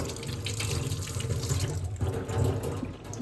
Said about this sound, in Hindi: हमने धो दिया टमाटरों को